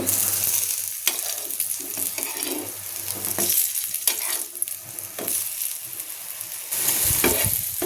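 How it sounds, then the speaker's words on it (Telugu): Eggplant pieces frying on a tawa give a steady close sizzle and crackle, with a few scraping stir sounds partway through and a brighter burst of sizzling near the end. No one speaks. "ఇప్పుడు ఈ వైపు కూడా ఒక ఐదు నిమిషాలు వేగనిద్దామండి"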